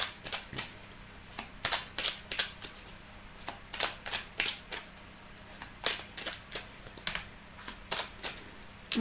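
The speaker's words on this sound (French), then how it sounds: "Je mélange avec les cartes du Petit Lenormand." Petit Lenormand oracle cards shuffled by hand, a steady stream of crisp papery slaps and flicks that keeps going for several seconds, close up and moderately loud with no one speaking.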